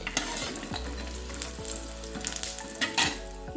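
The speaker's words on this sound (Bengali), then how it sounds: "বড়িগুলো আমি কড়াইতে দিয়ে দিয়েছি" Lentil bori dumplings, both mung dal and biuli dal kinds, frying in hot oil in a kadai, giving a steady close sizzle with a few spoon scrapes and stirring clinks, no voices.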